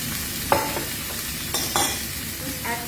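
A red snapper fillet pan-fried in very hot oil gives a steady loud sizzle and crackle, with a few sharper pops and spatters standing out against the continuous frying hiss.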